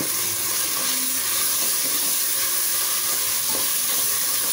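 Ginger garlic paste and chili paste sauté in hot oil for a chicken biryani, giving a steady, close, continuous sizzle and crackle with no talking.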